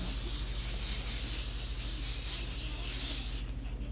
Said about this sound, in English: the last thing I'm gonna do is going to be my setting spray